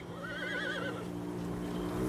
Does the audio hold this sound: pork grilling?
no